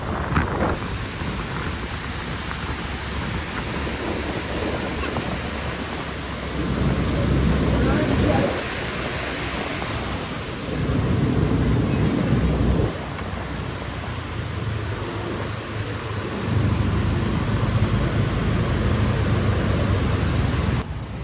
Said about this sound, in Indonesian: Sungainya masih meluap.